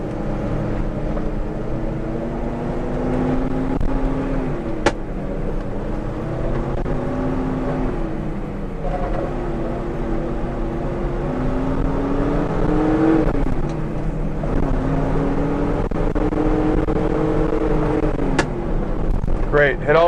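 A 1970 Chevrolet Chevelle SS heard from inside as it accelerates through its four gears, a steady engine drone rising and falling in pitch with each shift under continuous road and wind noise.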